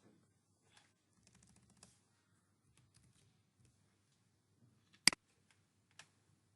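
Login and password typed on a computer keyboard, a faint, sparse series of soft key taps followed by one sharper click, with near silence in between.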